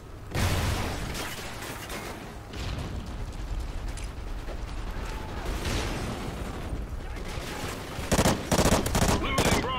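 Gunfire in the shooter game Call of Duty: Ghosts, with bursts of automatic fire and single shots over mechanical clatter and reload clicks, loud and dense, with a denser volley near the end and brief voices underneath.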